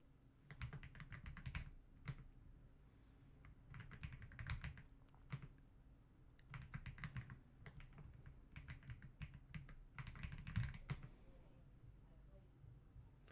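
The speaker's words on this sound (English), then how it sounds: "And I'll type everybody's name in." Rapid bursts of typing on a computer keyboard as names are entered, clustered keystroke runs separated by short pauses, close and moderately loud over a low background hum.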